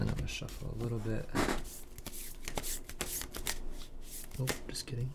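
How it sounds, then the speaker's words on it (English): Playing cards are shuffled in several quick riffling bursts, close up, while a person talks briefly between them. "Then I'm gonna shuffle a little bit."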